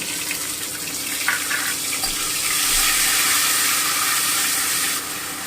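Cumin paste frying in hot oil gives a close, continuous, hissing sizzle that swells slightly before easing off, with no voices.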